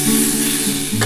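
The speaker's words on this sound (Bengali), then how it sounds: "একটু সামান্য জল দিয়ে দেবো" Water poured into a hot pan of drumstick and potato curry sets off a brief, close sizzle and bubbling hiss, loud for about a second.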